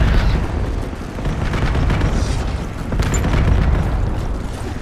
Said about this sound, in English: The airstrike.